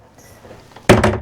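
A cabin door on a Sunseeker Predator 75 motor yacht closes with a sudden loud, close thud near the end, followed by a brief rattle after a quiet lead-in.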